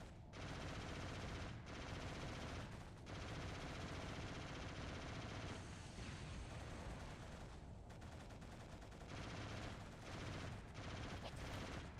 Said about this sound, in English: This is the battle of the least accurate miniguns.